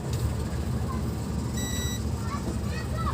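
An electrical tester's continuity buzzer, used while troubleshooting an ACE CA5 power amplifier with a silent channel B, gives a single steady beep of about half a second over constant background hum and noise.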